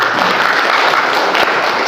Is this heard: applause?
yes